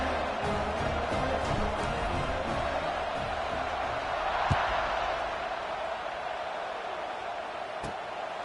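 Stadium crowd roaring in a college football video game, a steady loud wall of cheering that holds throughout with a couple of sharp thuds near the end.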